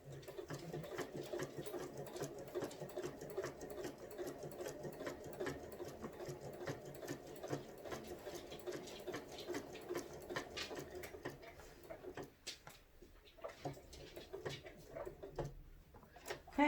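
A sewing machine stitches in the ditch along a quilt seam, running steadily for about twelve seconds before slowing and pausing, with a few light clicks near the end.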